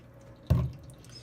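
A small splash of soap goes into hot water for wet felting, a single short liquid plop that stands out clearly against a quiet background.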